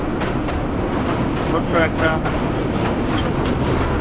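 Hawr Express passenger train running at night, heard from on board as a loud, steady rumble and rattle of carriages. A voice speaks briefly over the continuous noise.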